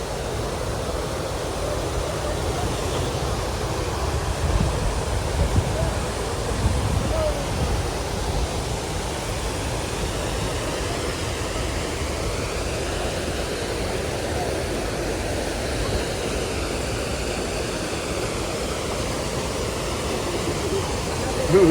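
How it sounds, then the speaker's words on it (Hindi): A waterfall on the Kinnaur Kailash trek, a forceful, continuous roar of rushing water that stays dense and steady throughout, loud and near, with no break in the flow. "वो झरना देखिए आप, इसकी पानी की फोर्स देखिए"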